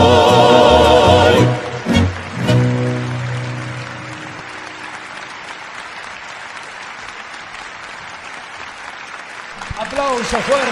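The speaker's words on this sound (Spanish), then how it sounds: "Aplauso fuerte, fuerte para la delegación de Paraguay, señoras y señores" At a Latin American festival, music ends abruptly and an audience breaks into applause for the Paraguay delegation, loud at first and then settling into a long steady patter, with a voice coming in near the end.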